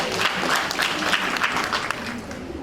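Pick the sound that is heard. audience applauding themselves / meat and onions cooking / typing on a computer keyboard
audience applauding themselves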